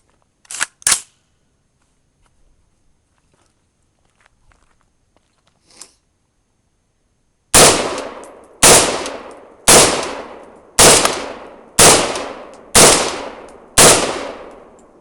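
An Adams Arms piston-driven AR-15 rifle fires seven evenly spaced loud shots close by, with a few faint handling clicks and metallic taps beforehand, then the firing stops.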